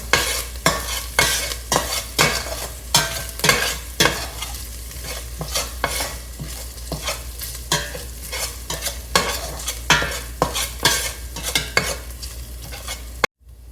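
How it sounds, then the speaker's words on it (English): Pandan leaf toasting in a hot pan for a Sri Lankan tinned jack mackerel curry, with steady sizzling under repeated sharp scrapes of a spoon stirring against the pan, close and fairly loud. "Next, I'm going to just go in with our pandan leaf. Just get that a little toasted as well."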